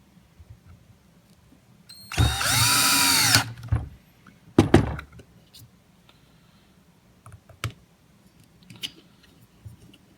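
A power drill drives screws back into the housing of a Ridgid orbital sander under repair. One loud whirring run of about a second and a half is followed by a brief second burst and a few faint clicks.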